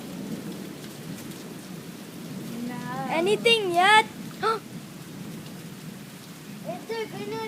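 Heavy rain pours loudly with thunder rumbling through the downpour, and people talk briefly over the storm.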